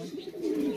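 Close, soft cooing of pigeons at a pigeon seller's place, a single low throaty coo phrase rising and falling briefly, alone without talk.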